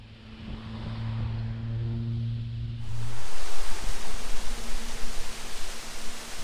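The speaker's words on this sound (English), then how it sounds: "Little waterfall, look at it just pouring out of the mountain there." A small waterfall pours out of a mountainside along Highway 20 in Washington State, a loud, steady rushing hiss of falling water that takes over from a low idling engine hum.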